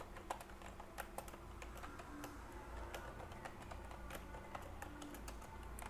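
Code being typed on a computer keyboard in a steady run of quick, close key clicks with occasional harder taps, continuing without pause over a low constant hum.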